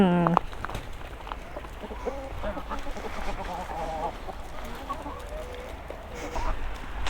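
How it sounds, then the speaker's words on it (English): Chickens cluck and squawk in a farm pen at an eco farmhouse on Lanzarote, with scattered calls over soft outdoor background and a voice speaking nearby. "Hello, chickens. Look at them."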